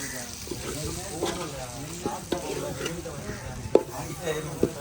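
Kuzhambu masala fries in oil while being stirred, a close, crackling sizzle punctuated by spoon scrapes, with a voice talking underneath.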